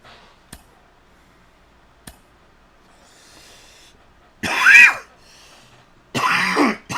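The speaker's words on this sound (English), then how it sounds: "Fucking goddamn cough lately." A man with a persistent cough gives two short harsh coughs and throat clears, loud and close, after a quiet stretch with a couple of sharp clicks.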